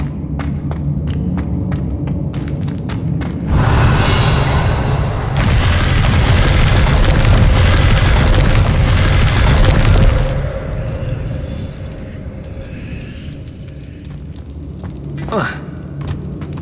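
Bombarda blasting spells explode in the video game Hogwarts Legacy, a heavy booming blast followed by several seconds of roaring rumble and debris that gradually fades, with game sounds around it.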